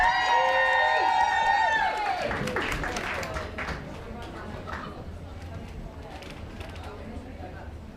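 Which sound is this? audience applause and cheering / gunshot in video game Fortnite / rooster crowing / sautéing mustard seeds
audience applause and cheering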